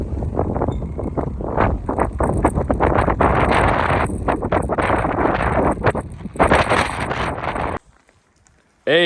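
Cold wind buffeting the microphone outdoors on a motorbike trip through Argentina toward Patagonia, a loud continuous rumbling roar that gusts and fluctuates for several seconds before cutting out abruptly near the end.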